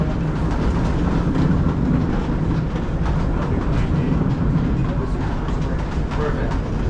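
A 1914 wooden roller coaster train in Denmark rumbles loudly along its track with a steady, dense roar and faint rhythmic clatter, close by and continuous.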